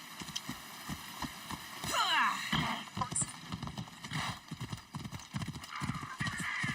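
A horse in the video game Destiny 2 clatters along with rapid hoofbeats and gives a sweeping neigh partway through, under a person's ongoing talk and game music.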